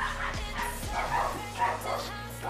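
A nearby dog gives a few sharp barks and yips in quick succession, mixed with whimpering, over a low steady background hum.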